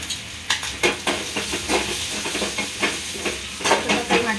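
Onions frying in two spoons of oil for brinjal masala curry, a steady hiss and sizzle punctuated by repeated scraping stirs of a spoon against the pan.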